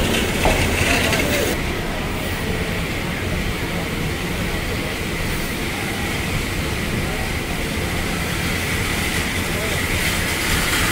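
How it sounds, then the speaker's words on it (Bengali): The Parabat Express pulls into Kamalapur railway station with a steady, grinding roll of wheels and clattering carriages, a broad continuous rumble with a brief mechanical rattle early on and faint talk nearby. "ট্রেন প্রবেশ করলো কমলাপুর রেলওয়ে স্টেশনে।"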